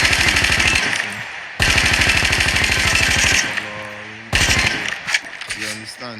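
Rapid automatic gunfire in the mobile shooter game Call of Duty Mobile, with loud sustained bursts broken by short gaps and scattered single shots, close and dominant.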